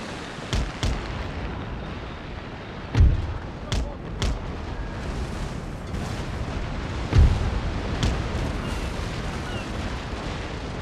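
Naval cannon fire from sailing warships in Napoleon Total War, several deep booming shots spaced irregularly over a constant background of battle noise and sea ambience, some near and loud, others more distant.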